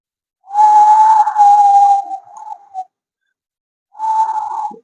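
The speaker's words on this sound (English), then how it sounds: "You can pout your lips, lower lip, like this, the way you whistle out." Breathing exercise in which air is exhaled through pursed lips like a whistle, producing a steady tonal whistling hiss about two seconds long, a short tail, then a second shorter whistled exhale, loud and close with no talk.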